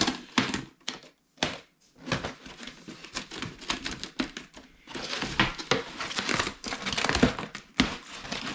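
Aftermarket fibreglass fairing parts for a Kawasaki ZX6R are unpacked, with close, bursty crinkling and crackling of plastic wrapping in irregular handling rhythms and brief quiet gaps.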